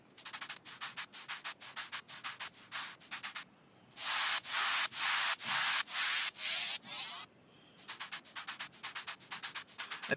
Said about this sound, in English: I have some white noise with the same LFO as the lead